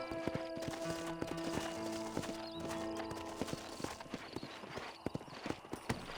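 Horse hooves clip-clop at a steady walking pace over a bed of sustained background music in the video game Red Dead Redemption on PC.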